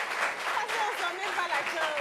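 Audience applause fills the room at a steady, dense level, with voices mixed in underneath the clapping throughout.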